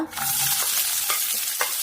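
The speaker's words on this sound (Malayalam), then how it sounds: "വെളിച്ചെണ്ണ ചൂടായിട്ടുണ്ട്. അതിലേക്ക് സവാള" Sliced onion hits hot coconut oil in a kadai, making a loud, continuous sizzle with a few short stirring scrapes over the top.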